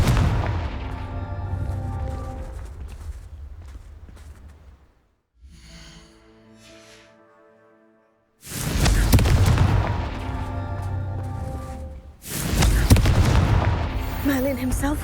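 Confringo blasting spells explode in the Hogwarts Legacy video game, two loud booming bursts with crackling debris that ring on for several seconds, after a stretch of rumbling action and a quieter lull.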